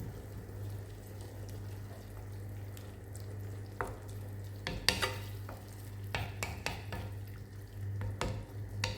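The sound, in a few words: water boiling in a pan with onion and mushrooms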